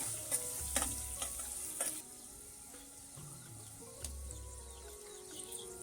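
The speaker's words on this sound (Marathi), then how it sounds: "त्याच्यानंतर आपण त्यात आलं लसूण हिरवी मिरची टाकून घेऊया आलं लसूण थोडं मिक्स करून घेते मी" Ginger, garlic and green chili fry in an earthen pot over a wood-fired stove for Agri-style mutton. A quiet, steady sizzle runs under light clicks and scrapes of stirring, with a few sharper knocks early on.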